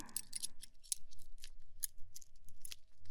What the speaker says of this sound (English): That's right, it's some keys.